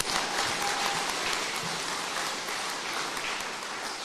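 Steady crowd applause, a dense wash of clapping hands sustained for several seconds at moderate distance, with no speech over it.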